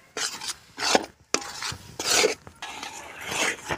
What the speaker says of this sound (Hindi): और इसको हम चलाते रहेंगे अच्छी तरह से, जो गुठलिया नहीं बंधे